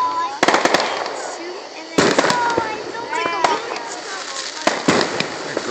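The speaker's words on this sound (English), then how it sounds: "these are the somewhat expensive fireworks" Backyard fireworks in a residential neighbourhood burst in sharp, loud bangs and crackles at irregular intervals, with whistling streaks between them, while people talk nearby.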